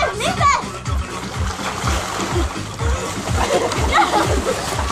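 Water splashes and sloshes repeatedly at a pool party, loud and close, in a rapid churning rhythm. Children and adults shout and talk over it the whole time.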